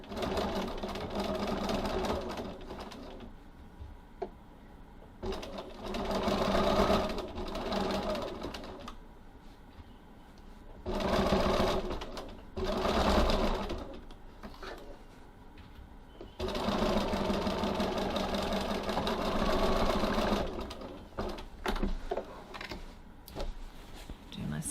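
Sewing machine stitching the lining panel seams of a tote bag at short stitch length, running in several steady whirring bursts separated by pauses, close and fairly loud, with a voice speaking during the pauses.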